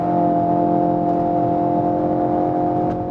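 Volkswagen Golf GTI engine held at high revs on a track corner during a downshift to second gear, a loud steady whining drone heard up close with no talk.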